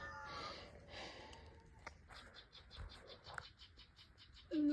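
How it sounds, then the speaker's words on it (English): A tiny bird in a tree on a farm gives a quick run of faint, high, repeated chirps. The calls sound soft and somewhat distant over low outdoor rustling, and a louder noise cuts in at the end. "Was that a rattlesnake noise? I didn't think it was, but yeah, it's some kind of bird."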